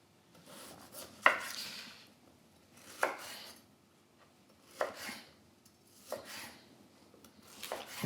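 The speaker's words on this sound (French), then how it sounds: "Maintenant on va simplement les couper en 4" Knife cutting small poivrade artichokes into quarters on a board, five separate crisp chops spaced a couple of seconds apart, each with a short scraping rasp, close and quiet with no voices between them.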